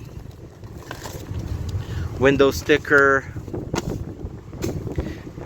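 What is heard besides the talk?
strong wind blowing on microphone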